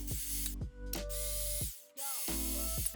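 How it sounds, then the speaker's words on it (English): A power drill bores holes into wooden buttons for a small camper box, running in several loud bursts of whining spin with short pauses and pitch shifts as the bit bites and releases. "Then I drill 2 holes on each side of the buttons"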